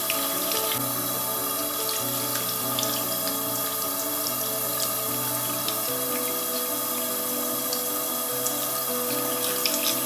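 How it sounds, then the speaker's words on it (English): Tap water runs steadily into a sink as old soil is rinsed off the roots of carnivorous plants, a continuous close splashing stream with faint drips and no voices. "Wash off the old soil with water."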